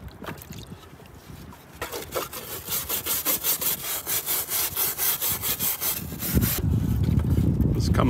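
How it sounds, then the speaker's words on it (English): A rusty 93-year-old licence plate soaked in 30% vinegar is scrubbed with steady, rhythmic strokes, about a dozen back-and-forth rasps at close range, followed by a louder, rougher rubbing toward the end. "I'm gonna give this a scrub and see how it looks"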